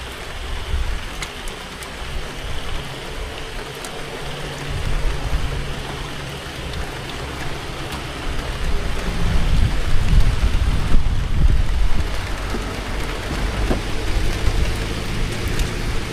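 Heavy rainstorm with rolling thunder at a reservoir, a steady dense roar of rain on surfaces with low rumbles swelling and fading throughout, loud and continuous with no voices.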